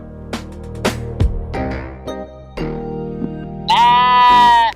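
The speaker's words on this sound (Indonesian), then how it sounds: "Domba." A sheep bleats once, loud and close, a sustained wavering cry near the end that follows several scattered thumps and clatters.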